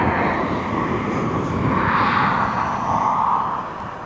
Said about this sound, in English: So Tui's taxiing on now.